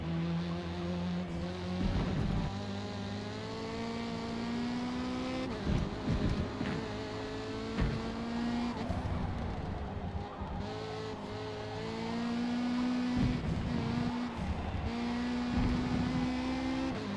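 A widebody Nissan 240 race car with a large wing, driven in B Class in a racing video game: its engine revs rise and fall through repeated gear changes, with bursts of tire squeal and skidding through corners, loud and continuous.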